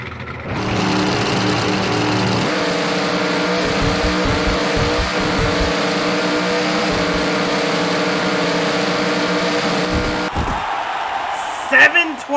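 Drag racing cars launching in NHRA Drag Racing at Topeka: a loud, sustained engine roar holding steady for about ten seconds before cutting off abruptly, with a voice speaking briefly near the end.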